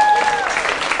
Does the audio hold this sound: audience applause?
yes